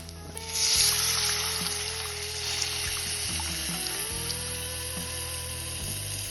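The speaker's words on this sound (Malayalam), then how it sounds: "ഇനി ആ വെള്ളം നമുക്ക് ഇതിലേക്ക് ഒഴിക്കാം." Soaked tamarind water pours into a hot pan for ginger-tamarind pickle, bursting into a loud hiss and sizzle that settles into a steady bubbling simmer with a low hum underneath.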